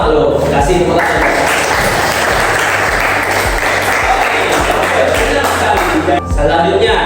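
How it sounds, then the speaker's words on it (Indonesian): Classroom applause from students during a lesson, loud continuous clapping from a group close by, with voices mixed into the clapping. "Coba sama lo, kasih tepuk tangan."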